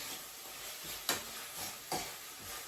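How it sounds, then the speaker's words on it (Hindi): Chopped vegetables sizzle in a hot tadka in a pan, a soft, steady hiss broken by two brief, sharper stirring scrapes. "बहुत ही अच्छी सी सिजलिंग सी तड़के की साउंड आ रही है"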